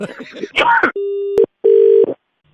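A telephone call ends on a radio prank call: a brief voice, a click, then steady electronic line tones in two separate bursts with short silences between, loud and close.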